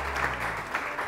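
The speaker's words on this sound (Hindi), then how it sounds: "सबसे पहले बहुत सारी तालियाँ" Audience applause fills a TV morning-show studio in a brief, dense burst of clapping at moderate level, with no speech over it.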